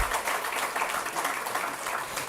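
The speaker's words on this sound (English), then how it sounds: "So can we give them a round of applause?" Audience applause at an anniversary celebration, a continuous wash of many hands clapping, fairly distant and moderate in level, lasting the whole short stretch with no voices.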